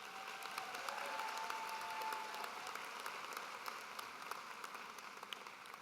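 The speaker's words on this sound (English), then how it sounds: "help me congratulate all of the students for their additional efforts with a round of applause." An audience at a 2023 alternative learning center graduation ceremony gives the students sustained applause, a dense, even wash of many hands clapping throughout.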